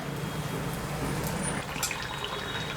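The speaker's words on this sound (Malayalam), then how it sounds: "ഞാനിവിടെ ഒഴിക്കുന്ന ഈ തവിക്ക് രണ്ട് സ്പൂൺ മാവാണ്" Rice batter poured from a ladle for muttayappam (egg appam) makes a steady wet pouring and sizzling sound, loud and continuous with faint drips, and no talking.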